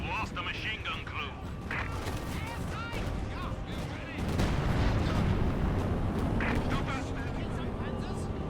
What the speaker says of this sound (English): That is an IL-2 bombing strike.